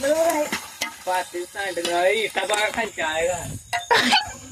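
Onions frying and being stirred in a pan at a village paneer party, with sizzling and scraping under near-constant talk from several voices.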